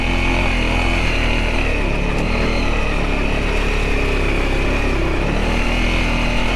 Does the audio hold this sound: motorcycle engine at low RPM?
yes